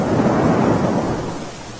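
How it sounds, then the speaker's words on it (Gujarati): Heavy, unbroken rain pours down during a thunderstorm in Junagadh, Gujarat, with a steady roar of downpour and rolling thunder filling the whole stretch, loud and close with no voices. "જૂનાગઢમાં પણ અવિરત વરસાદ વરસી રહ્યો છે"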